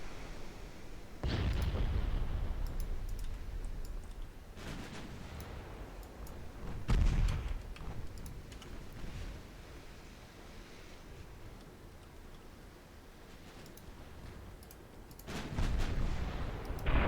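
Naval guns fire high-explosive shells in Ultimate Admiral: Dreadnoughts, three heavy distant booms spaced several seconds apart, each rolling out over a low rumbling sea-like background.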